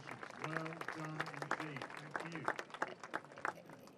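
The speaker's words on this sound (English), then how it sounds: "I'm expecting the crowds, which are lining up here, to start to give him a very warm welcome indeed." Golf spectators lining the course at the BMW PGA Championship 2017 give a player a warm welcome with steady applause, and a commentator talks over the clapping.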